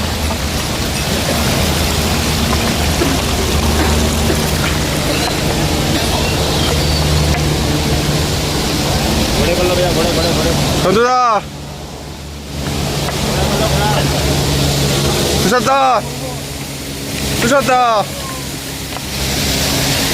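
Mountain water rushing beside the Kedarnath trail on the walk from Gaurikund, a loud continuous broadband roar, with voices talking over it and brief dips where the flow briefly quiets.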